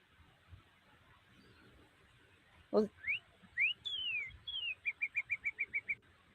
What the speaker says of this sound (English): That's a cardinal.